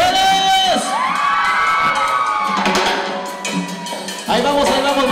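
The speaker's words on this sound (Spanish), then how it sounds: "¿cómo gritan las mujeres?" Women at a quinceañera party in Cutzamala, Guerrero, scream and cheer loudly on cue, a dense crowd of high whoops and shrieks that fills the whole stretch, rising again near the end.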